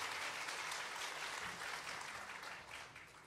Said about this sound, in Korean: 우리 다시 한 번 더 큰 박수 부탁드립니다.